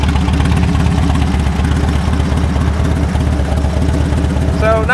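A 2006 Harley-Davidson Street Glide motorcycle, 17 years old with slip-on pipes, idles steadily with a low, loping rumble that stays close and loud throughout, and a brief faint squeak comes at the end.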